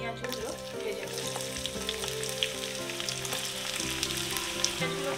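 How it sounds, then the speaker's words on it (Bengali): Onions sizzle in hot white oil in a wok while a chicken leg curry is being made, giving a steady, close, bubbling crackle that runs throughout with a faint tonal hum beneath. "এবার আমরা এর মধ্যে পেঁয়াজগুলো ভেজে নেব।"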